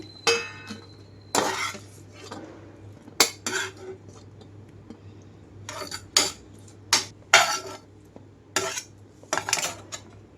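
Cooked ivy gourd is scooped from the pan onto a plate after the stove is switched off, with repeated sharp scrapes and clinks of a metal spoon against the cookware, spaced irregularly over a faint steady hum.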